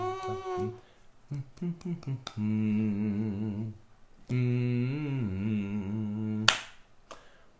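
A mother plays a clap-hands game with a small child: a string of sharp hand claps, quick at first and then spaced out, mixed with her sustained sing-song voice.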